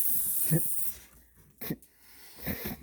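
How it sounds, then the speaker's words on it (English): Cooking spray hisses into a baking pan in three short bursts, close and fairly quiet, with brief pauses between them in a home kitchen. "I'm gonna spray the pan."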